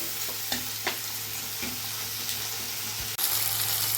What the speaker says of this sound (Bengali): এই টমেটোর মধ্যে দিয়ে দেবো আদা বাটা এক চামচ আদা বাটা দিয়ে দিচ্ছি আদাটা টমেটোটা কাঁচা গন্ধ যাওয়া পর্যন্ত একটু দাঁড়িয়ে নেবো